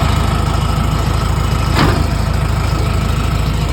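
The engine of a 2014 Hitachi ZX250-5 LC excavator runs at a steady idle, a loud, even diesel drone with a low rhythmic throb and one brief mechanical clunk partway through.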